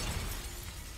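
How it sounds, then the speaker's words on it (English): A stained glass window in MediEvil shatters under gunfire, a brief dense crash of breaking glass that is loud and close, with no voices. "Shoot through the stained glass"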